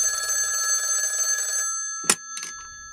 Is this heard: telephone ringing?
yes